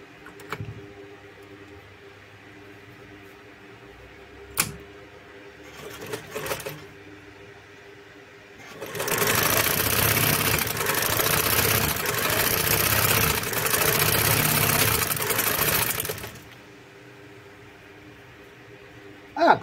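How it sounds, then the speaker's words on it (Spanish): A Negrita 15 30 sewing machine with a bent needle bar and a broken shock absorber stitches fabric. A steady, loud whirring run of about seven seconds follows a few brief clunks, then stops. "Ah, cose bárbaro, mirá cómo cose."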